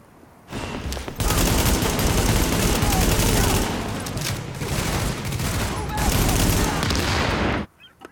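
Sustained, dense gunfire and explosive bursts in Tom Clancy's The Division, a shooter set in chaotic New York City, with loud overlapping shots continuing for about seven seconds before cutting off abruptly.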